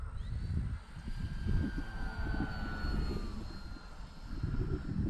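An FMS PA-18 Super Cub 1300 mm RC model plane, flying heavy on an oversized battery, drones steadily overhead at a moderate distance, its motor whine shifting slowly in pitch over continuous low wind rumble.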